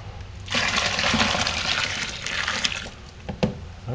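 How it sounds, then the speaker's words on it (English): Very hot water is poured for a batch sparge in home brewing, a splashing stream that runs for a few seconds, close and fairly quiet, with a couple of small knocks near the end. "I'm going to take some of this super hot water"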